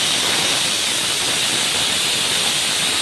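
A pressure cooker cooking jackfruit curry vents steam in a loud, constant, close hiss that holds without a break for the whole stretch.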